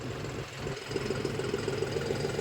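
A John Deere 5405 4x4 CRD tractor engine runs at a steady idle, a low continuous rumble with faint knocking pulses and no talking.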